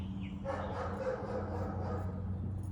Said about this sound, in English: My goodness, them dogs.